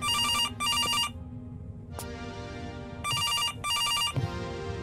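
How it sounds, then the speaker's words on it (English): A telephone rings in a horror video game, with repeated electronic double bursts separated by short gaps, loud and close over a low ambient drone. "Answer the phone."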